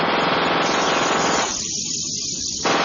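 Rapid, loud bursts of automatic gunfire from the Airwolf helicopter's weapons rattle continuously, briefly dipping in intensity before surging again.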